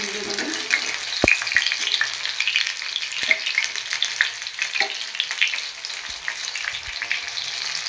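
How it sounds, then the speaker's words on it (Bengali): Chicken cutlets frying in oil, giving a continuous bright crackling sizzle with occasional sharp pops and light utensil knocks, close and fairly loud with no talking. "গোল্ডেন ব্রাউন হবে ভাজাটা, এবারে একে তুলে নেবো।"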